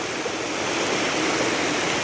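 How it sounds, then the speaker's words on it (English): Shallow bedrock stream at Greenville Falls running low after little rain, giving a steady, close rushing wash of water that stays unbroken and even throughout. "with it being a bedrock stream"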